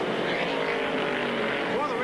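Stock race cars at the 1969 Atlanta 500 drone steadily in the distance, a continuous engine roar under a commentator's voice.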